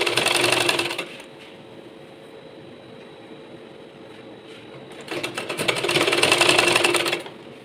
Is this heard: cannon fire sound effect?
no